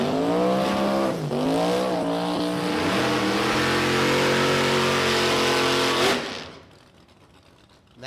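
A Nova drag race car at a motorplex small-tire event: a loud, close engine sustains a high rev with a rising and dipping pitch that holds steady, then cuts off abruptly and leaves quieter ambient noise.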